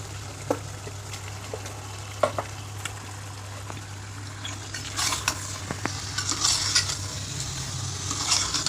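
Large chicken pieces sizzle as they fry in a pan. A steady, fairly quiet hiss is broken by scraping stir strokes, and the sizzle grows busier and louder toward the end.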